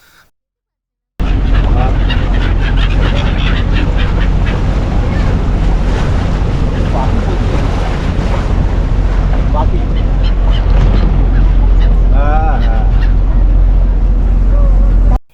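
A boat ride on the river mouth near Gangasagar in winter, with loud continuous wind buffeting and water rushing past the hull, a steady roar broken by faint bird calls and distant voices.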